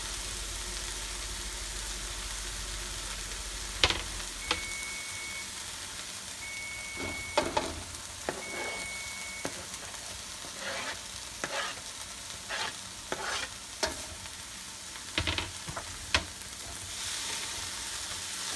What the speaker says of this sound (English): saute this until it gets nice and soft